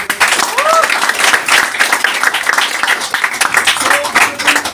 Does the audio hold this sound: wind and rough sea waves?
no